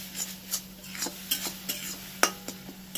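Malai curry masala being sautéed in a pan, a spatula scraping and tapping against the metal in an irregular rhythm of about a dozen strokes over a soft, steady sizzle, close and fairly quiet.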